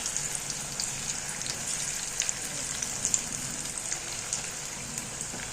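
Cabbage pakoda fritters frying in hot oil, a steady bright crackling sizzle with scattered pops, moderately quiet and continuous, no talk.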